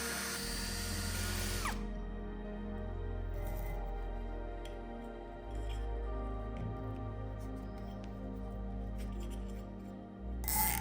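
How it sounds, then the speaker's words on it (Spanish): A power drill bores holes in the metal cooling fins of an electric motor, making a loud, close, continuous whine that shifts pitch as the bit loads and unloads. It starts abruptly about two seconds in. "Para acoplar el condensador, hacemos unos agujeros en las aletas del motor."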